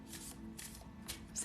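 Tarot cards being shuffled by hand, a stiff deck riffled and grabbed in soft repeated bursts of papery rustle, close and fairly quiet, with no talking.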